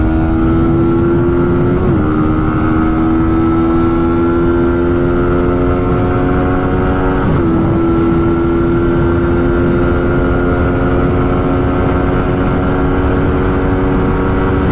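A Suzuki motorcycle engine drones loud and steady at high speed, with a constant harmonic whine that dips briefly twice as if shifting or easing the throttle, all under heavy rushing wind noise.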